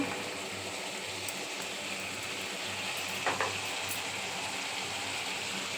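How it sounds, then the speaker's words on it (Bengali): A pot of food coming to a boil gives off a soft, steady hiss and fine bubbling crackle, faint and continuous, with a couple of small clinks partway through. "এই যে ফোটা শুরু হয়ে গেছে"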